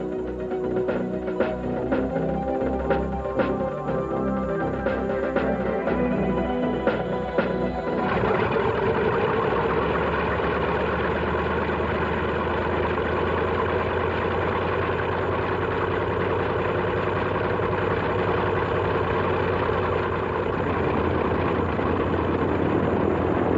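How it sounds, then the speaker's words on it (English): Radial engines of C-model North American B-25 Mitchell bombers run while taxiing, a steady heavy rumbling drone with rough, pulsing idle at first, then a smoother, louder roar as power rises. "Looking weary and war-worn, these Mitchells, which appear to be the C model, make their way on one more mission."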